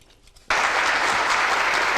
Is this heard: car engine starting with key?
no